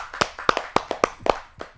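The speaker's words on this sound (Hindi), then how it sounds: "आइए जोरदार तालियों से स्वागत करते हैं डॉक्टर नीरज कुमार चतुर्वेदी जी का।" An audience at a Hindi poetry gathering claps to welcome a poet: a sparse handful of distinct, fairly faint claps spaced out over a couple of seconds.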